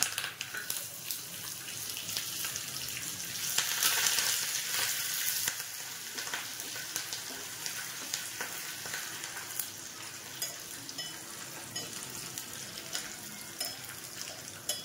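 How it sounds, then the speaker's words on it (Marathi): Cumin, sesame seeds and curry leaves crackle and sizzle in hot oil, a busy steady frying hiss with a louder burst of spattering early on. "खमंग फोडणी करूया आपण"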